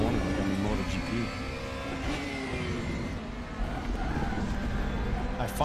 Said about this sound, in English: I find the BMW handles the corners a little bit better.